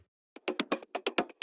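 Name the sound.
tech house drum loop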